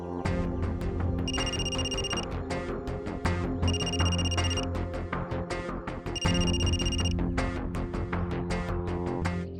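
A telephone rings in a Hindi TV drama scene, three separate electronic ring bursts sounding at even intervals over continuous background music.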